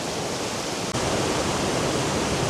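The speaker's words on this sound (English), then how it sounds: "as you can hear, I'm at the Coolalingo Waterfall, and my God, this baby is in full flow after 2 heavy days of rain" Coolalingo Waterfall in full flow after two days of heavy rain roars as a loud, dense, unbroken rush of water close by, with one tiny dropout near the start.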